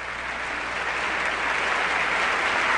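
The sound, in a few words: applause in the US Congress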